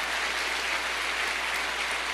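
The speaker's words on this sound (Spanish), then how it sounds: "Dale un aplauso al Señor" Church congregation applauding during a sermon, a dense, even wash of many hands clapping at steady loudness with a low constant hum beneath and no speech.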